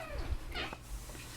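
A house cat meows close by indoors, a short quiet vocal call with a brief second cry after it, against a low background hum.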